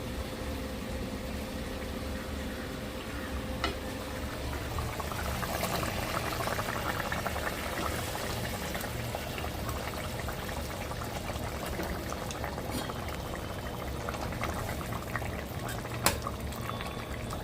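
Steady bubbling simmer of fish curry in a pot, soft and continuous, with an occasional faint clink near the end.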